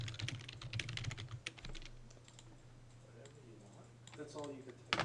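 Fast bursts of clicky computer keyboard typing close by, quick irregular keystrokes that trail off midway, followed by a short stretch of speech near the end.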